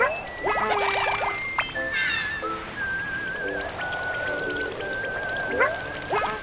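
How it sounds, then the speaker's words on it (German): Steady patter of rain in a Yoshi video game with scattered drops, mixed with chirpy whistles and occasional clinks, continuous throughout with no talking. "Nee, da regnet's."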